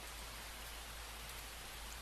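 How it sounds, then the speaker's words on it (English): Steady, dense rain falls without a break, a close, even wash of drops with no voices or other sounds. "the rain lulls me to sleep"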